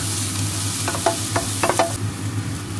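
Onion sautéing in a small amount of oil while being stirred, a continuous close sizzle with a few distinct scraping strokes of the spoon against the pan partway through.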